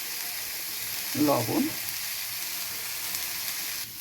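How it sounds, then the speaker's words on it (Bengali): Spices with salt, ginger, turmeric, cumin and coriander powder sizzling in a pan, a sharp frying burst at first that settles into a faint steady sizzle, with a voice speaking briefly. "ভালো করে মশলাটা কষাবো।"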